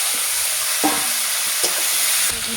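Fried potato, pumpkin and chickpeas sizzle in a pan for a spicy prawn dish. A steady, loud hiss carries through, broken by three clattering stirs of a spoon against the pan.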